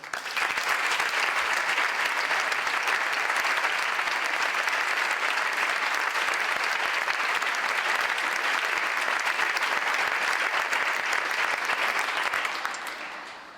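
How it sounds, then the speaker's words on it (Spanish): A large audience applauds steadily at a folk music school gathering, a dense, even roar of clapping that holds at full strength for many seconds before tapering off at the end. "quiero pedir un aplauso también para ellos"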